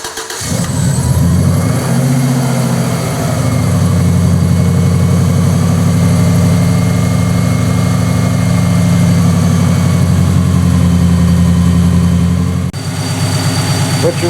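A Subaru engine cranks and catches, then settles into a steady, loud idle with a constant low rumble close by after a power steering pump replacement, and a brief dip near the end.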